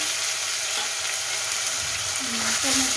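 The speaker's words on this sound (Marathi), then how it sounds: "छान असा परतून घ्यायचा 1 मिनिटभर, पूर्ण 1 मिनिटभर छान तेलामध्ये परतून घ्यायचा" Tomatoes fry over high heat in oil seasoned with cumin, mustard seeds and garlic. A loud, dense, continuous sizzle fills the clip, with a few faint squeaky scrapes near its end.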